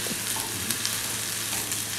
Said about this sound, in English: I hope you approve of the frying technique here